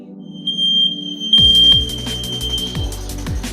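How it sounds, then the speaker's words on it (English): A kitchen smoke detector set off by dry frying blares a steady high-pitched alarm tone, starting in short bursts and then holding continuously over background kitchen clatter. "I'm always setting the smoke detector off"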